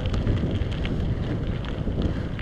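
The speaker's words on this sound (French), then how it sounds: "On entend bien le vent quand même par moment là." Wind gusting steadily across a riverbank between Pont du Château and Les Martres, a continuous low rumbling buffet on the microphone with no pause throughout.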